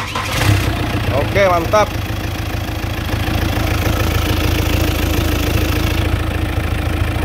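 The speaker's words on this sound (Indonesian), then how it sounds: "sekarang coba kita starter mobilnya, bos." A Chevrolet Captiva diesel engine cranks briefly, catches and settles into a steady, rumbling idle that fills the rest of the recording, with someone speaking briefly over the start.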